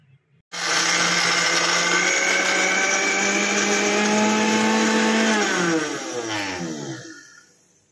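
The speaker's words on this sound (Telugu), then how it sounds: "ఈ ముక్కల్ని మనం మిక్సీ పట్టుకోవాలి" A kitchen mixer grinder grinding jaggery pieces whirs loudly at high speed for several seconds, its motor pitch holding steady before winding down.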